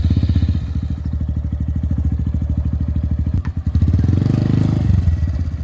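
A motorcycle engine runs close and loud with a fast, even exhaust pulse, then briefly dips and surges higher in revs as the bike rides up a ramp into a truck.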